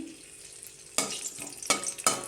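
Oil in a pan with bay leaf and whole garam masala, for shahi paneer, sizzling steadily; three sharp bursts of crackle flare up as spices hit the hot oil, with no talking.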